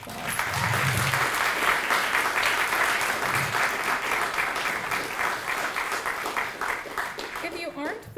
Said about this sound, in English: We should give all of these folks a round of applause.